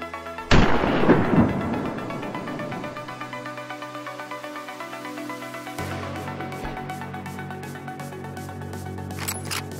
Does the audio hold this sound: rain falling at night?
no